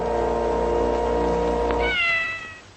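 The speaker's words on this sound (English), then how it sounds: "That little kitten meow at the end of the Mary Tyler Moore episodes" A single kitten meow closes Mary Tyler Moore Show episodes. A sustained tonal meow sounds clear and close, ending in a rising, fading wail.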